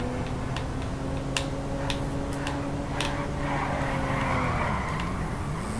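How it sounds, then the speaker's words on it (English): Tyres skid and squeal as a car drifts in Grand Theft Auto 5, a loud continuous screech with sharp ticking clicks over steady engine drone, no talking. "Ooh, that drift though."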